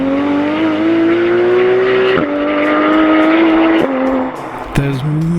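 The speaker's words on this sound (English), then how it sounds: "the forest air is filled with the sound of a raging race engine" A Porsche GT3 RS race engine screams loud and close through a forest, holding a strong high revving tone that dips briefly at gear changes, with a sharp burst near the end as the rear tyres lose grip.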